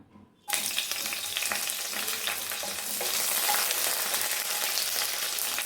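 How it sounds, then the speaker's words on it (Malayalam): Chopped green chilies and bay leaves hit hot coconut oil with a sudden burst of loud, continuous sizzling that keeps crackling steadily throughout, with some stirring. "നമുക്ക് മൂന്ന് പച്ചമുളക് ചെറുതായി അരിഞ്ഞത് കൂടെ ചേർത്ത് കൊടുക്കാം"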